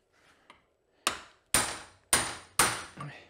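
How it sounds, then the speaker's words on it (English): A hammer strikes a fork seal on a Kawasaki KD175 motorcycle fork, driving it into place against a hard surface: four sharp, loud, evenly spaced metallic knocks, each decaying quickly, after a faint lighter tap. "Grab a hammer that has a little more persistence to it."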